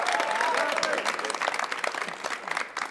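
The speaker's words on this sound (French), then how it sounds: "On applaudit Étienne." Applause for Étienne, a wine supplier, at a podcast taping: a dense wash of audience clapping sustained for about three seconds, with voices cheering and talking over it near the start.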